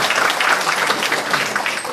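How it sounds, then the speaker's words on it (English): An audience applauds at a conference talk, a steady, dense wash of many hands clapping that fills the short moment on its own, loud and close. "Please give them another round of applause."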